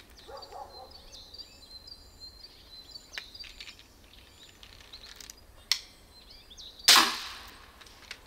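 A bolt caster airsoft gun fires a 2.06 gram ball over a chronograph, giving a sharp snapping crack, preceded by a smaller click, against quiet outdoor ambience with faint birdsong.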